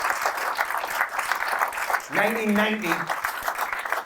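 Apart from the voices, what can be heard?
audience round of applause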